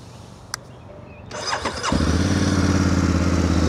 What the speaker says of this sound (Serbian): sad želim da vam pokažem kako se čuje ovaj motocikl